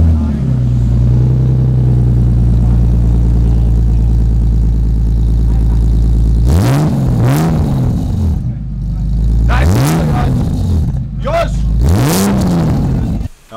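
A BMW E36 sedan pulls up, its engine droning low and steady, then revving in several rising and falling bursts up close while people talk nearby.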